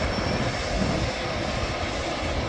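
Etihad jet airliner at Manchester Airport, a loud, steady engine roar that stays close and constant throughout with no speech.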